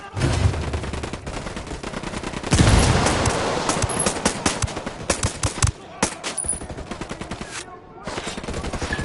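Rapid automatic gunfire in the Ghost Recon Wildlands video game, dense bursts and sustained machine-gun fusillades, loud and close, with brief pauses between volleys.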